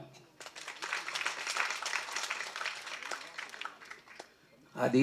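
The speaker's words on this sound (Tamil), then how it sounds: "ஒரு மிகுந்த கரகோஷத்தை அவர் கொடுங்க." An audience at a Tamil film event breaks into a dense burst of clapping that swells and holds for several seconds before fading, with a voice cutting in at the end.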